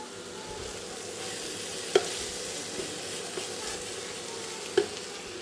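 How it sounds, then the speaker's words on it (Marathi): Green chillies coated in gram-flour batter deep-frying for bhaji hiss in a steady, close sizzle of hot oil, broken by two sharp pops, with no voices. "भज्याच्या पिठात मिरच्या तळायच्या"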